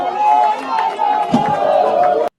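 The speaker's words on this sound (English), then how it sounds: "you see just regular people cheering" A crowd of ordinary people cheering at a rally for a military coup in Gabon, a dense roar of many voices with shouts and chatter throughout, loud and continuous until a sudden cut.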